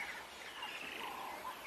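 A Wahlberg's eagle calls to its partner on a sunset safari, a faint, drawn-out series of thin, wavering cries that rise and fall over quiet background noise.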